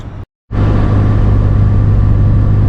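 A car drives along in a loud, steady cabin rumble of engine and road noise, briefly cut to silence near the start before resuming unbroken.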